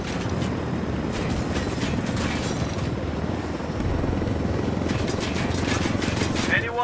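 Helicopter rotors in the tactical shooter Ghost Recon Wildlands, a continuous low thudding drone with rumbling mechanical noise, joined by sharper bursts of gunfire or impacts partway through.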